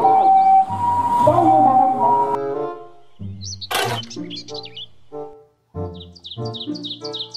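A toy ambulance siren plays a tinny electronic wail with chirpy beeps, loud and close, after a burst of jingly toy music.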